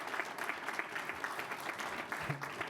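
A school board meeting audience applauds steadily for a high school girls wrestler and her coach, a dense wash of clapping held at even volume throughout with a brief murmur near the end.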